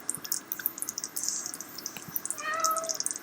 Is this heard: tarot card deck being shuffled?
no